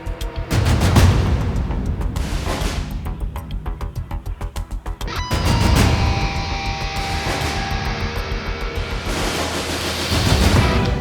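Heavy cinematic drums from the Laboratory Audio Strikeforce library, with only light EQ: booming percussion hits pound in thick, loud layers, with dense rhythmic rolls and big impacts, no voices.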